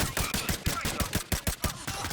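Rapid automatic gunfire in the tactical shooter game Ready or Not, a fast, even burst of around a dozen sharp cracks over two seconds, moderately loud.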